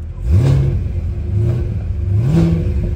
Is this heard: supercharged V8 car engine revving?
yes